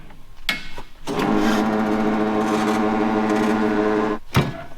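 A tire changer machine mounting a trailer tire gives a loud, steady mechanical whirring drone for about three seconds, framed by brief clanks and knocks before and after.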